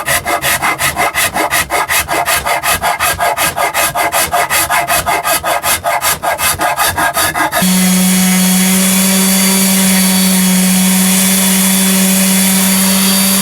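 Rasping and sanding on a short-scale bass guitar body, using a Shinto rasp or finger sander: rapid rhythmic scraping strokes for about eight seconds, then a steady whirring sander drone with a low hum, close and loud, no talking.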